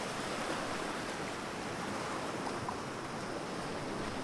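Ocean waves surge and break in a steady, unbroken wash of surf, loud and close, with no voices over it.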